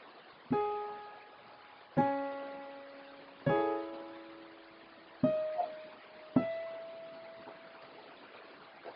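Five separate organ chords ring out one after another, each striking and then fading, as a song is played on an organ. Short gaps fall between the chords, with no voice over them.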